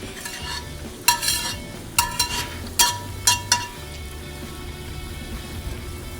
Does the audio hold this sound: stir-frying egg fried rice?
yes